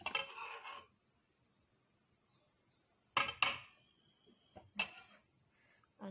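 Spoon clinking against a bowl while mango pulp is stirred into homemade yogurt, a few sharp scraping clinks in short bursts separated by quiet pauses, close and fairly faint.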